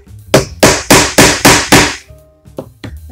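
Hammer striking a metal rivet into a sewn cross-body bag or tote, five loud, evenly spaced sharp blows followed by a few lighter taps, close and with no talking.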